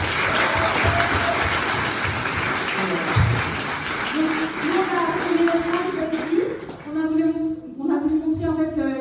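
An audience at a talent show breaks into loud, sustained applause that is dense and close. A voice speaks over it and it fades toward the end.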